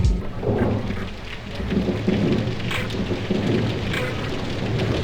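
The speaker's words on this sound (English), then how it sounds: "one of the first things I hear is the approaching storm" Steady rain patters on surfaces while low thunder rumbles and rolls through, heavy and continuous across the whole stretch.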